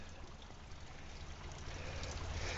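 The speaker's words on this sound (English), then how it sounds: "And still hear water running through," Water running and trickling through a collapsed culvert under a canal, a faint, steady wash of flow that grows slightly louder toward the end, with no talking.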